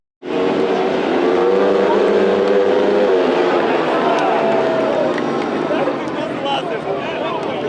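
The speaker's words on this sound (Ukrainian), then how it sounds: "Вони виступали у класі мотоциклів з об'ємом двигуна 250 см кубічних." 250 cc speedway motorcycles racing at a Rivne speedway meet, their engines roaring loud and continuous with pitch sweeping up and down as the bikes accelerate through the laps.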